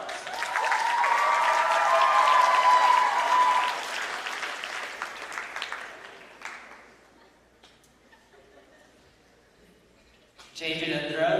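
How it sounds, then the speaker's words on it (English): A convention audience at an opening ceremony gives a loud round of applause that holds steady, then thins and fades out, and a voice starts up over a microphone right after. "round of applause"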